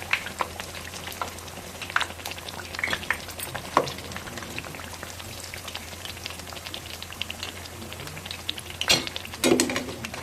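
Raw banana bajji fry in hot oil, a steady soft sizzle and crackle with scattered sharper pops and spatters, close and unbroken, with no voices.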